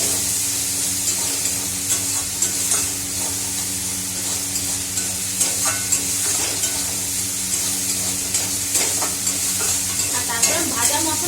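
Spices frying in oil in a home kitchen, a steady close sizzle with frequent stirring scrapes throughout, no voices.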